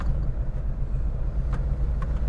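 A small Aprilia RS 50 sport scooter engine runs close by with a continuous low, throbbing rumble. The sound stays at an even level throughout the short stretch.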